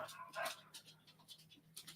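A female dog in a home during a casual evening chat panting softly close by, with a few short whimpery breaths and no clear barking, faint and partly under low voices.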